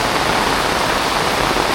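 Steady rain pours down over the Konkan countryside in the evening monsoon, a dense, even hiss of water with no pauses and no voices.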